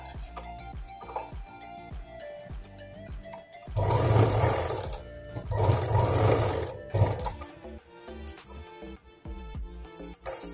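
Sewing machine stitching a handbag seam twice, two bursts of fast, rattling stitching a few seconds apart, close and fairly loud, with quieter handling clicks before and after.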